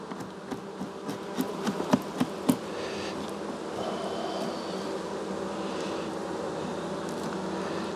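Honeybees buzzing around an open hive during a frame inspection, a steady close droning hum throughout, with a few sharp knocks and taps early on.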